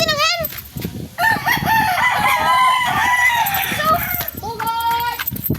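A rooster crows loudly at the start and again near the end, the long rising-and-falling calls standing out over a busy mix of other fowl clucking and squawking, with people talking in between.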